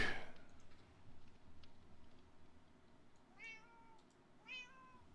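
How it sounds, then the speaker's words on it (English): A cat meows twice in the background, faint and somewhat distant, each meow a short rising-falling call, amid quiet room noise. "I got all the cat sounds in the background"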